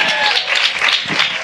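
Congregation clapping during a Hindi-language Christian sermon: a brief, dense burst of many hands applauding together, fairly loud and close, lasting a second or two.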